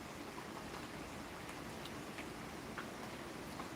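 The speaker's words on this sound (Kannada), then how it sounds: "ಈಗ ಮಳೆ ಬರ್ತಾ ಉಂಟು ಜೋರಾಗಿ" Heavy rain falls steadily as a soft, even hiss, with scattered faint drip-like ticks on a surface, quiet and continuous with no voices.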